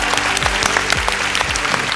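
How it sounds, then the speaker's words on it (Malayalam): A comedy show audience applauds steadily, with dense, even clapping from many hands that fills the whole stretch at a close, full level. "നാട്ടിലെ കോമഡിക്കാർക്കൊരു നല്ല കൈയടിയാവാം."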